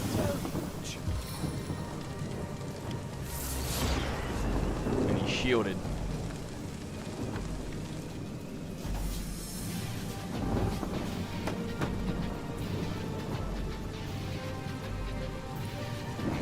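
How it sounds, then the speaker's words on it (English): Rain called down by an opponent during a video game fight, a steady loud wash of downpour with rumbling thunder-like bursts, continuous throughout under a voice talking over the game. "Oh, he's making it rain."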